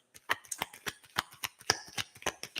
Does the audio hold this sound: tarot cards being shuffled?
yes